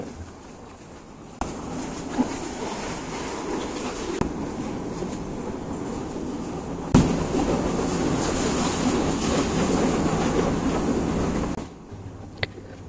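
Passenger train running from Madhabdi toward Sitakunda, a steady loud rumble and rattle of wheels and carriage from inside near the door, swelling partway through and dropping near the end.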